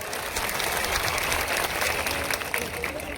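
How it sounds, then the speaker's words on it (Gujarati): A large crowd at a tribal community rally and public meeting in Chhota Udepur claps steadily and densely, a sustained wash of applause with voices faintly mixed beneath it. "તાળીઓ પાડી લે એમના માટે જોરદાર"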